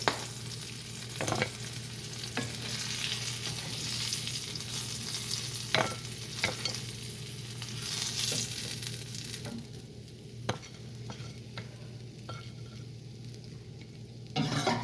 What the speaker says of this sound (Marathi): तर अशा प्रकारे हे आपलं पापलेट फ्राय झालेलं आहे.